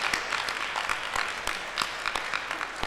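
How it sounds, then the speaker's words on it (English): An audience applauds the four debate teams after their work, a steady patter of many hands clapping with sharp individual claps popping out over about three seconds. "let's give both teams, all four teams, a round of applause for excellent work today"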